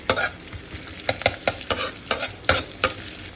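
Ginger garlic gets stirred in a hot pan, with a spoon scraping and tapping in a quick irregular rhythm of about a dozen strokes over a soft sizzle, close and fairly loud.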